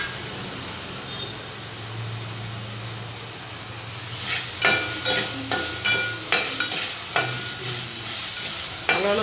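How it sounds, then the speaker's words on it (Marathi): Crushed ginger and garlic sauté in a pan for hotel-style puri bhaji. A low background hiss gives way to a louder, bright sizzle broken by repeated rhythmic stirring scrapes, with no voices. "आलं लसूणही छान परतवायचं आहे."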